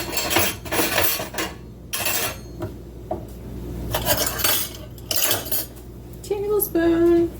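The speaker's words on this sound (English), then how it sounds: "So I'm going to get my tablespoon measurement out." Metal cutlery clatters and clinks as a tablespoon measure is dug out of a kitchen drawer. Several sharp jangling bursts sound close by, ending with a brief ringing chime, with no talking.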